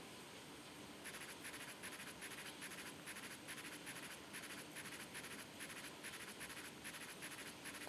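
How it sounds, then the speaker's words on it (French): A digital scratch card being scratched in a French online lottery game, heard as a steady series of short, regular scratchy bursts repeating for several seconds over faint background hiss, with no talking. "Pour le dernier tirage de grattage."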